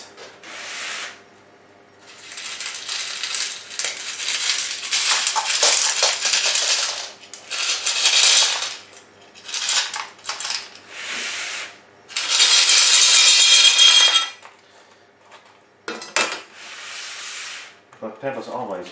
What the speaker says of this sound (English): Pebbles always make even a little bit more noise.